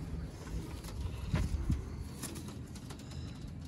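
Sialkoti pigeons coo softly against a steady background hiss, a few low murmuring calls at middle distance with no talk over them.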